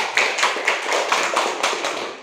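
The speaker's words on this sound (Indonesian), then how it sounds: "Tepuk tangan buat Zulfa." A classroom of students claps for a classmate, a dense run of close, loud handclaps with a quick, even rhythm that keeps going steadily and fades a little at the end.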